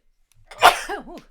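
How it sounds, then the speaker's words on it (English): One sharp human sneeze bursts out close to the microphone, followed by a brief voiced trailing sound, with no talking around it. "I'm sorry, I have to sneeze."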